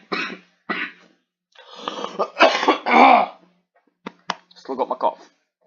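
Several close, harsh coughs in separate bursts, with short pauses between them and a little throat clearing.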